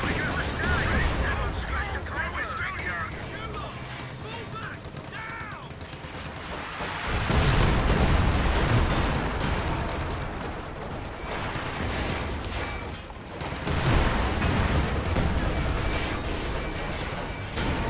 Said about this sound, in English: Bombardment on the way.